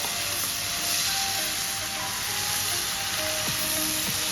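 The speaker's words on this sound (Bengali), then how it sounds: "বাটারটা গলে গেছে, এখন আমি চিকেনটা দিয়ে দেব।" Chicken marinated with black pepper, ginger and garlic fries in melted butter, giving a loud, dense, unbroken sizzle close to the pan.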